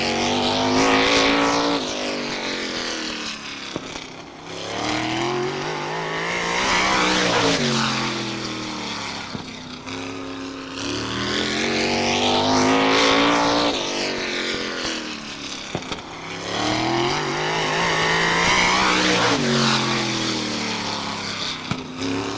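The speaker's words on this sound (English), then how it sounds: "Now on the Speedway, car number 99" A race car laps Star Speedway, its engine roaring past in repeated loud sweeps that rise and fall as it approaches and recedes around the track.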